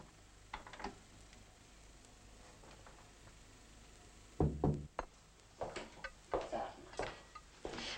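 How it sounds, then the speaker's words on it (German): A door in a 1985 German film is eased shut, giving a few soft knocks and latch clicks in a quiet room, followed by several light thuds and taps. "Und jetzt machst du die Tür schön leise zu."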